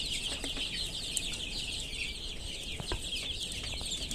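Native desi chickens cluck in a farm coop, a steady busy chorus of soft clucks and rustling, fairly close, with no talking.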